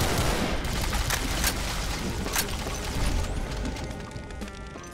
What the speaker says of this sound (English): Oh, wait, I have double assault rifles?